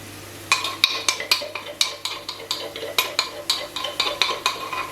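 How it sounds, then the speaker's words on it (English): Grated ginger is stirred and spread across a pan to cook off moisture, with a regular series of close scraping utensil strokes against the metal over a faint sizzle and no talk. "I'm just going to spread it out a little bit more, get rid of some more of the moisture"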